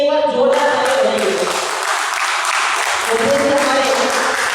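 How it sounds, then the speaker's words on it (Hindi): An audience gives loud applause for a speaker invited on stage at a foundation event, a dense sustained roar of clapping that begins under a fading voice and keeps steady throughout. "तो उद्देश्य के लिए एक बार जोरदार तालियां बजाइए।"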